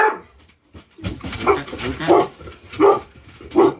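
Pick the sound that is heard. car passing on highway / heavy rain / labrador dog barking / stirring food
labrador dog barking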